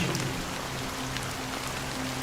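Steady rain falls in a video game scene, an even hiss of drops on surfaces with a faint low hum underneath and no voices.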